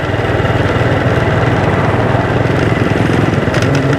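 A motorbike riding through the busy streets of Hanoi's Tay Ho district near West Lake, its engine a steady, loud, close putter with a pulsing rhythm that holds throughout, with no speech.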